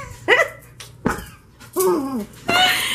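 A pet dog barks in a home, three or four sharp separate barks spaced about a second apart, loud and close, with a little whimpering tone between them.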